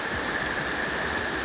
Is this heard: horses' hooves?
no